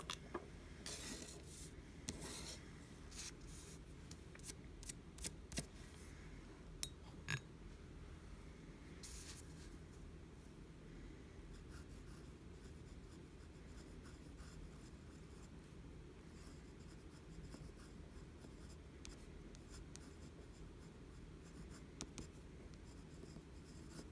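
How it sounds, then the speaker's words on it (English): A pen scratches softly across a paper swatch card as a fountain-pen ink name is written, a faint, close rasp of strokes in a quiet room. "Oh, I better write the name first."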